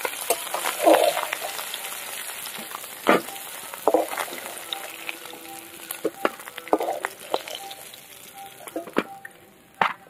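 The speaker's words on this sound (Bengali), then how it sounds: "জিরে আর তেজপাতা ফোড়ন দিয়ে দেবো" Cumin seeds and bay leaf hitting hot oil in a pan give a faint, steady sizzle, broken by a few sharp clicks and utensil taps, with no voices.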